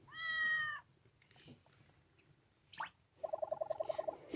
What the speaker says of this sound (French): Hé, un chat!